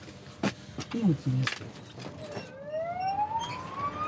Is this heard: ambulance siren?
yes